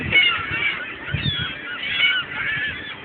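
A flock of geese at Millerton Lake honks continuously, with overlapping calls close by and fairly loud, and faint background noise underneath.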